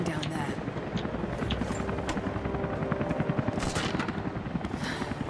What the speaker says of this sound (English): there's that helicopter again